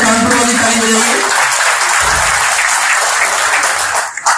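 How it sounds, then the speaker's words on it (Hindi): An audience at a spiritual talk claps together, a dense continuous wash of applause that stays loud throughout and cuts off near the end. "ताली बजा दें प्लीज इनके लिए।"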